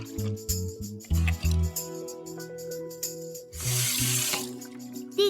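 A cartoon tap runs water into a sink, a bright rushing gush that bursts out for about a second amid busy music and effects, no talking.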